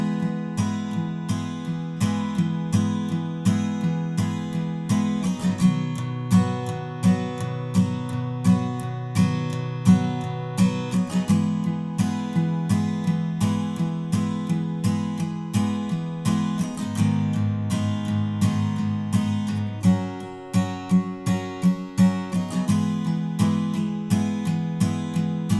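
Acoustic guitar strumming the chorus chords of a song with a long strumming pattern, a dense continuous run of rhythmic strokes, loud and close with full low strings, chord changes every few seconds and no voices.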